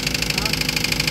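A Toyota Avanza engine runs with an abnormal noise thought to come from the oil pump, a steady close mechanical hum with a faint rhythmic ticking and a high whine layered over it, continuous for the whole moment.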